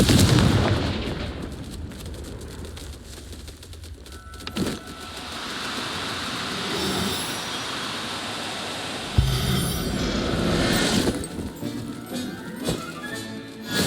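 In the game Hogwarts Legacy, the Confringo blasting spell sets off a loud, booming explosion, followed by a quieter stretch of rumbling debris and then a second sharp blast.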